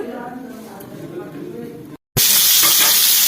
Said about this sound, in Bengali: আমার সেদ্ধ করা আলুটা এবার আমি গরম তেলে দিয়ে দিলাম